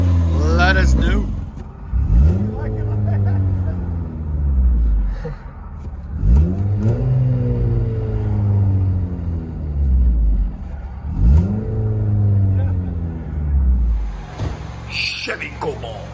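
A 2007 Chevy Cobalt with a Rumble Series exhaust revving repeatedly, three loud rising throttle blips that each fall back to a deep rumbling idle, close and dominant.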